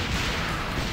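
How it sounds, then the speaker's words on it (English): A rocket launcher fires in the Metal Slug arcade game, heard as one dense, booming blast with a rumbling low end that fills the short moment and carries no speech. "Rocket launcher."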